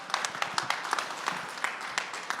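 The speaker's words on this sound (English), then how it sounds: "If we could get a round of applause, please." An audience at a talk on sports and fashion design gives a brief round of applause, a loose patter of hand claps at moderate volume without speech.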